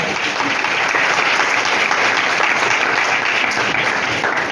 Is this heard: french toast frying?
no